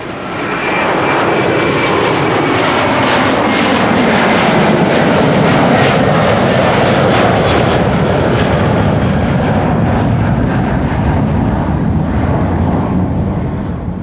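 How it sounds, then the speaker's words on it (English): A Delta Airlines jet at Amsterdam Schiphol Airport produces a loud, steady engine roar that builds in and holds evenly throughout, alone without voices. "Delta Airlines Flight 47 to New York."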